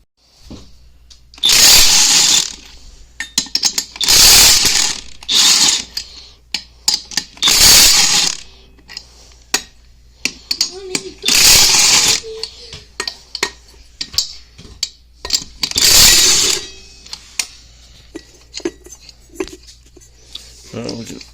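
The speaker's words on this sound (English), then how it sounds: "We're just taking these lug nuts off." A power tool zips off car wheel lug nuts during a leaf-spring vehicle rebuild, five loud short bursts spaced a few seconds apart with metallic clinks and handling sounds in between.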